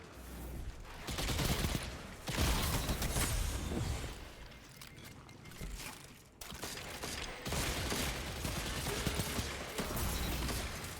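Osteo Striga gun in a video game fires in dense, rapid bursts with mechanical clatter, two long stretches of sustained fire split by a brief dip, loud and continuous throughout.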